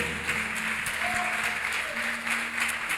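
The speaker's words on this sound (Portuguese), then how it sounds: "Você pode dar uma forte salva de palmas ao Senhor?" A church congregation gives a strong, steady round of applause, the claps filling the room evenly with a faint tone lingering underneath.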